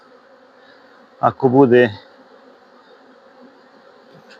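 Honeybees drone in a steady, continuous hum over an open hive full of brood frames, while someone speaks briefly near the middle.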